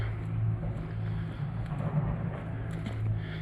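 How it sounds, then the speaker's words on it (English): A tractor engine drones faintly and far off as a low, steady hum at the edge of a forest in Neshota Park, with no other clear sounds over it. "You can hear a tractor in the distance"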